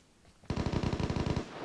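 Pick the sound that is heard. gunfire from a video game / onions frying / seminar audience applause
gunfire from a video game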